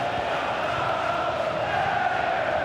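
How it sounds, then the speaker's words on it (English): Stadium crowd noise from a UEFA Champions League match between SL Benfica and SSC Napoli in EA FC 26 makes a dense, steady roar of thousands of fans with no breaks, loud and even throughout. "just listen to this crowd"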